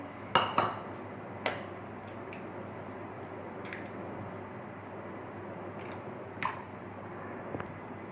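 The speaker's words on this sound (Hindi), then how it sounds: "एक एक करके हम एग इसमें तोड़ के डालेंगे" Eggs are cracked one at a time into a pan for egg-fried naan, giving a few sharp, close cracking taps spread over a low, steady background hum.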